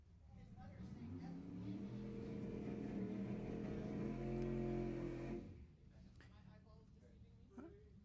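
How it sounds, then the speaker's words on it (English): A ProCharger-equipped drag racing car at Lebanon Valley Dragway during ET finals, a deep, rising engine roar with strong harmonic drone building for several seconds before cutting off abruptly, followed by quieter distant track noise. "That sounds healthy over there. I think that's a Pro Charger car."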